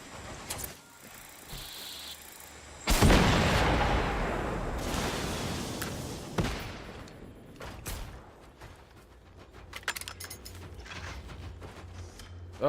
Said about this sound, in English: Everything exploding!